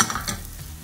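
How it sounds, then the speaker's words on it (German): Onion sautéing in melted butter in a pan, a soft close sizzle with some stirring scrapes, brief and without talk. "Die Butter zergehen lassen und den Zwiebel darin goldgelb anschwitzen."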